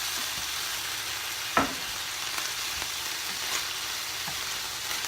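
Cooked chicken in a pan for pad Thai as soy sauce goes in, giving a faint, even sizzle with one sharp knock early on and a few soft taps.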